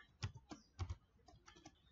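Typing a username and password on a computer keyboard: irregular bursts of key clicks in quick clusters, close and moderately quiet, with no talk.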